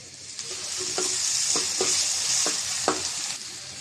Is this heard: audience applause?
no